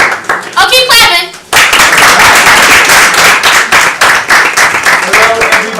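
Sustained loud clapping from an audience at a spoken-word performance, steady and dense after a brief moment of voices, with some talk near the start and end.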